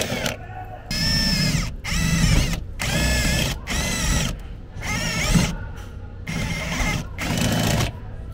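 A power drill bores holes for MOLLE panels on a Toyota LandCruiser LC76 wagon, running in repeated whirring bursts of about a second each, separated by short pauses, close and fairly loud.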